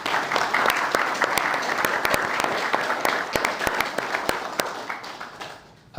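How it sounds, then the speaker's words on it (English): A room full of people at a volunteer forum in Boronia gives a sustained round of applause, dense steady clapping close by that fades out near the end. "Round of applause for Bill, ladies and gentlemen."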